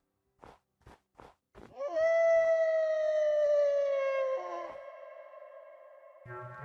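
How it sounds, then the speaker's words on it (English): A few short soft blips lead into a long, clear wolf howl from Minecraft, a sustained tonal cry that holds steady and slowly sinks in pitch before fading, with a faint echo-like tail. "What we heard was a wolf's howl."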